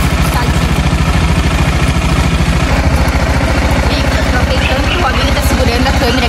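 A motorcycle engine idles close by with a steady, rapid, chugging pulse throughout, while a person talks over it.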